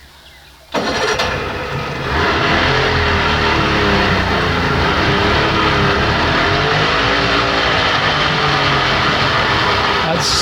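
An old outboard boat motor abruptly starts and settles into a loud, steady running drone that holds for several seconds before cutting off at the end, with voices talking over it.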